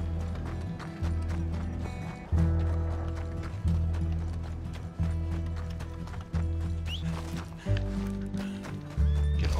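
Horse hooves clip-clop steadily with occasional neighs and whinnies in Red Dead Redemption 2, close and fairly loud, with a muffled voice faintly in the background.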